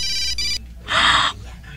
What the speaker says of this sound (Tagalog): nag-ring ang cellphone niyo?